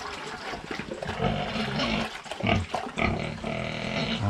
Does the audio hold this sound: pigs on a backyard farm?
yes